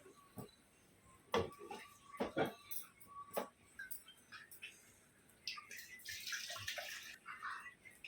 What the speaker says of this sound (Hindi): देखो और थोड़ा पानी डाल दिए।